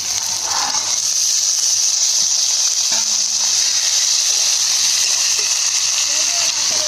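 Chopped onions and bean seeds hit hot oil in a pan with fried fish and sizzle in a loud, continuous, bright hiss close by, with a voice briefly audible beneath it.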